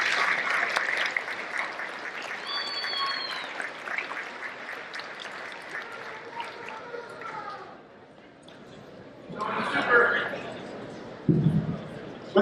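An audience applauding at a community salute event for a school district, with sustained clapping from a crowd mixed with voices and chatter, fading briefly before swelling again.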